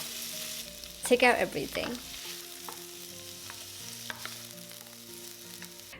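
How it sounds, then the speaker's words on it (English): Bell pepper, pineapple and garlic stir-fried in a pan, a low steady sizzle with a brief louder stir near the start, under a short spoken line from a nearby voice. "Stir fry until the aroma comes out for about 30 seconds."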